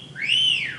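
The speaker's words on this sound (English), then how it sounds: "ringtone goes off for a message on your phone" Phone message ringtone sounding once, a single loud, clear rising-then-falling whistle tone close by. The note holds steady for under a second with no talking.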